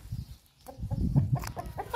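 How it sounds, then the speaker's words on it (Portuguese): A chicken clucks in short, irregular bursts at close range in a backyard garden with medicinal plants, with soft rustling and low background noise around it. "A galinha fujona já pulou."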